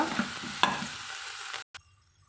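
Quiet scraping and stirring of a thick mixture in a pan, with a soft sizzle and a few light clinks of the utensil.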